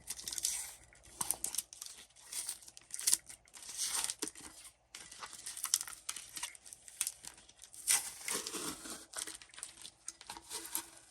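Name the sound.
peeling tape and vinyl stencil off a thermoflask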